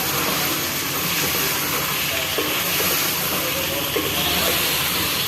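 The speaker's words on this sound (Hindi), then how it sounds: "और अब अच्छे से हंडिया को जो है भुनेंगे।" Spices and green chilies roasting in a handi for arvi ki sabzi, a steady broadband hiss and sizzle running throughout at moderate level, with faint background voices.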